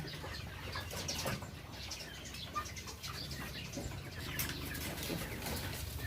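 Nine-week-old laying hens in a cage cluck and flap their wings, scattered bursts of fluttering and soft clucks over a steady barn din, with no voices.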